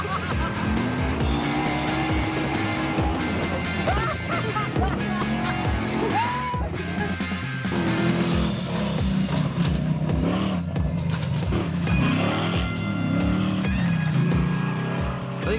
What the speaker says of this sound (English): George got his truck out and started rallying